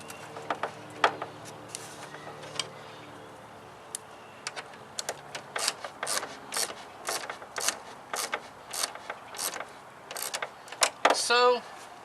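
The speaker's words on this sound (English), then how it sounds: "So, tighten this clamp back up as well" A clamp on a Chevy Malibu with a 2.4 engine is tightened with a ratchet, giving bursts of quick clicks that grow denser and end in a fast run of ratcheting, with a brief spoken word early on.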